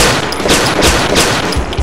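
Rapid bursts of gunfire in a fan-made dinosaur animation, several sharp repeated shots rattling loud and close over about two seconds.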